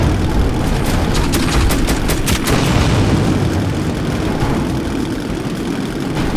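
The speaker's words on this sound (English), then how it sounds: "it's a tank!" A tank rumbles with a heavy, steady low engine drone in Metro 2033, loud and close throughout, with a quick run of sharp shots rattling over it early on.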